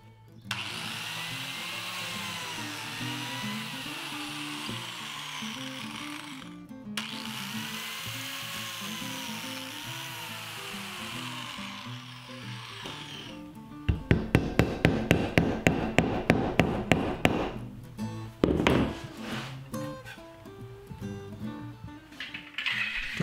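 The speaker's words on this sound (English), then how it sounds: "I'm using biscuits to join the boards" Woodworking power tools at work while boards for small stacking table tops are joined with biscuits and glue: a steady whining machine hum, then a rapid burst of sharp repeated cutting clatter and a few knocks, close and loud.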